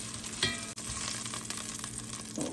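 Beef pieces sear in a Dutch oven with a steady, close sizzle, browning without cooking through for a stew, with brief stirring or scraping bursts and handling clatter throughout.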